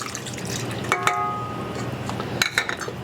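Half a cup of fresh lemon juice poured into sour cream for a no-bake lemon cheesecake: a steady close trickle with a few light clinks of the container.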